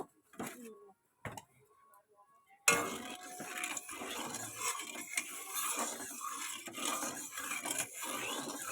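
Spoon stirring salt into hot oil in a pan while making an egg curry, with a few clinks of metal on the pan early on and then a continuous sizzle and scrape as someone talks.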